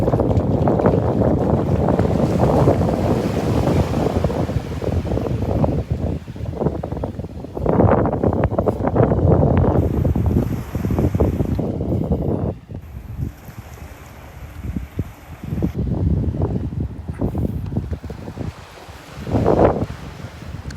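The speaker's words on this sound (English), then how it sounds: "Ooh, windy out here." Strong gusty wind roars and buffets the microphone continuously at a beach, with a rumble of surf beneath and surges rising and falling throughout.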